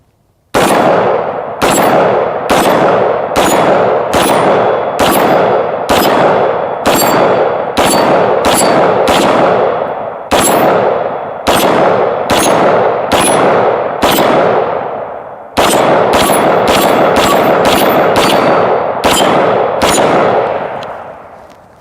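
5.56 mm incendiary rounds fired at steel plates outdoors: about two dozen loud, sharp shots ring out one after another at a steady pace, each cracking and clanging with a short decaying ring, with a brief gap near the middle.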